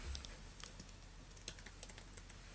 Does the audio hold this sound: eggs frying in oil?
no